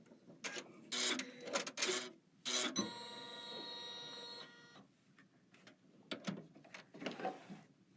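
A Kimberbell embroidery machine stitches down an appliqué piece on a flower-pot design, giving a quiet run of mechanical whirring and tapping with a few louder bursts of clatter, close by and alone.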